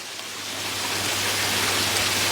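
Rain falls at a tilapia fish pond, a loud, dense hiss that swells slightly and then holds steady, with no voices.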